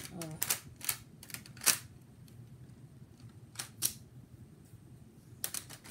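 Sharp plastic clicks and snaps from a Lego-built M416 toy gun as its magazine is released and reloaded, several quick clacks spaced irregularly over a soft background hiss.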